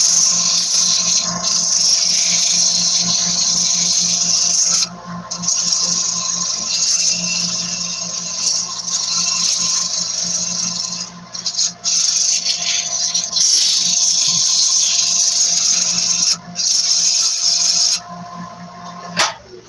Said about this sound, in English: Sanding.